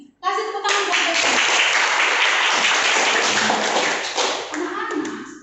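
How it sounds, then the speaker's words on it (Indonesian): Schoolchildren in a classroom give a loud burst of clapping that starts abruptly and runs steadily for about five seconds, with some voices audible under it as it tapers off. "Kasih tepuk tangan buat Devon."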